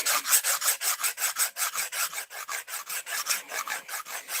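Steady back-and-forth rasping of a convex-edged knife blade drawn over a diamond sharpening plate, roughly four strokes per second, close and even, with no talking.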